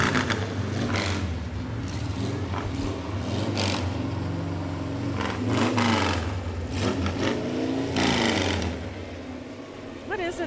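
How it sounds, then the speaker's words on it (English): Vehicle engines at a university homecoming parade with Shrine club entries rev in drawn-out rising and falling surges, loud and close, with voices talking over the noise throughout. "What is it about men wanting to rev up the engine?"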